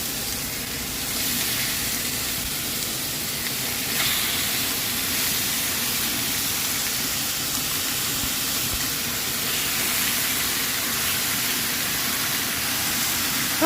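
Pork ribs searing in a hot pot give off a loud, steady sizzle and hiss that runs without a break, close up and with almost no talk over it.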